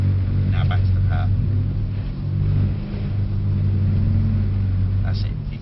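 A Mercedes-Benz AMG C63S engine rumbles and revs loudly while the car drifts, a steady deep drone that swells and eases under people talking.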